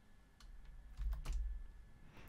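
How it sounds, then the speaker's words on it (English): Soft keystrokes on a computer keyboard as a master password is entered in a password manager, a quiet irregular run of taps close by. "Let's type."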